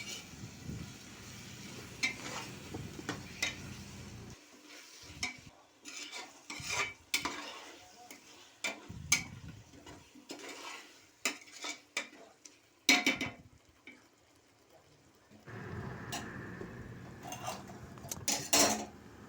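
Metal spoon stirring and scraping vegetables with mint and coriander in a pan for vegetable biryani, a run of clinks and scrapes with brief pauses and a faint sizzle underneath.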